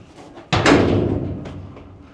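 The metal dog box door on a stock trailer slams shut with one sharp, loud clang, then a ringing rattle that fades over a second or so, followed by a faint knock.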